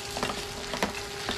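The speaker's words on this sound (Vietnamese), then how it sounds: "Trộn đều lên" Two eggs stirred in a hot frying pan make a steady soft sizzle with a few scraping strokes of the utensil on the pan, close and quiet, with no talking.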